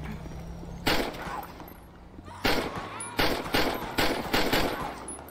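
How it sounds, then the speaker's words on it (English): Gunfire in GTA 5 LSPDFR, with a sharp shot and then a rapid volley of five loud, close bangs over a low game backdrop. "Shots fired!"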